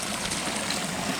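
Tide water flows steadily into a shrimp pond, a continuous broadband wash and trickle with no distinct events, moderately loud and close throughout.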